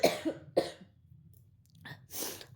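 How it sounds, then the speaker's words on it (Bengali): Someone who is ill coughs close by, with two quick harsh coughs, a pause, then two or three more, and no talking. "মাঝে মাঝে কাশি হবে, কারণ শরীরটা আমার চরম খারাপ আছে"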